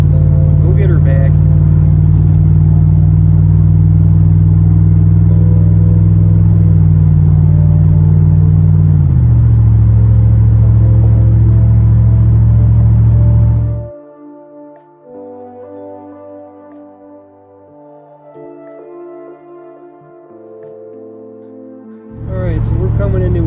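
A V8-powered car cruises on an open road, a loud steady engine drone that shifts in pitch midway, then drops away to quiet interior sounds before the engine noise returns briefly at the end.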